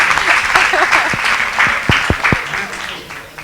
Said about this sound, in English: I will clap just for that.